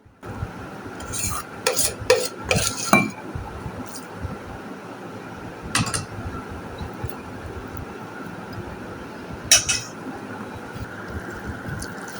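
Boiled lentils (dal) being mashed by hand for a spicy onion bharta, with scattered bursts of close scraping and squishing, clustered early and recurring a few times over a quiet room hum, with no talking.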